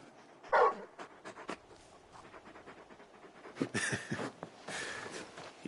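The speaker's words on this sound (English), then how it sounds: "You're just a big puppy, aren't you? A very big puppy." A large dog in a video game pants steadily in quick, soft breaths close to the listener, with a few louder huffs and breathy bursts over a quiet background.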